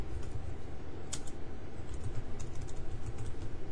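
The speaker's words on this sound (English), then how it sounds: "might as well go ahead and type out some more" Someone types keyword tags on a computer keyboard. Soft, muffled keystrokes tick irregularly beneath a heavy, steady background hiss, with no voices.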